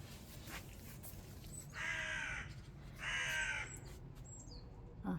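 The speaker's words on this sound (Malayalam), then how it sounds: "കാക്ക വന്ന് കൊത്തിയിട്ട് പോകും." Crows caw near a rooftop terrace vegetable garden, two drawn-out harsh calls a second apart, moderately distant, over a steady low background hum, with no talk.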